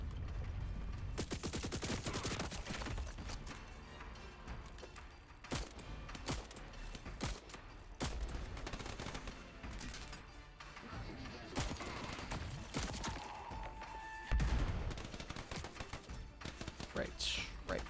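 Rapid, dense bursts of gunfire from a misbehaving gun in the shooter game Void Train rattle almost continuously, loud and close, with a heavier thump near the end.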